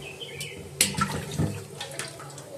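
Tap water runs and splashes as someone washes up at home during Holi, a steady close hiss broken by a few louder splashes.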